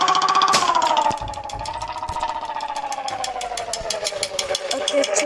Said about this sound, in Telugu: చూడండి బుల్లెట్ సౌండ్ ఎంత బాగుందో.